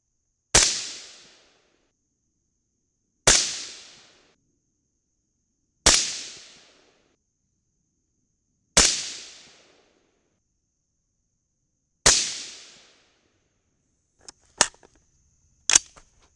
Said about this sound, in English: We'll shoot all 5 groups with the Sierra before we move on to the Nosler.